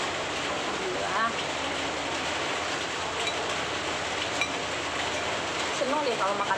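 Steady rain pours outside on a cold morning after falling since dawn, a constant broadband hiss with faint traces of voices beneath it.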